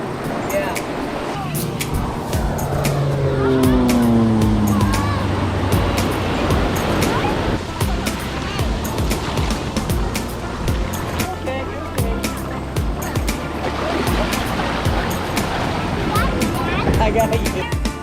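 Ocean waves wash onto an Outer Banks beach in a continuous broadband roar and swell, with people talking nearby over the surf.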